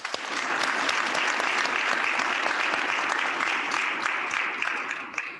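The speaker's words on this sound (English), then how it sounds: "Let's give her a round of applause." Audience applause at a community awards ceremony after a classical music performance: dense, steady clapping from a crowd that swells in quickly and holds throughout.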